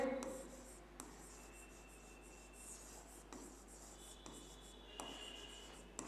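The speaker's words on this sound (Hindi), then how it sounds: "अब देखो यहां पे मैं लिखता हूं" Marker strokes on a classroom board, a series of soft scratchy rubbing sounds in short bursts with pauses between them, faint and close, with no speech.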